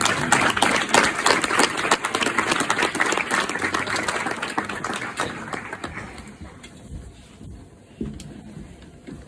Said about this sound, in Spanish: Vamos a recibirlo con aplausos